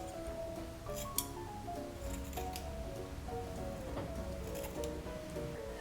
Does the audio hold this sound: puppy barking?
no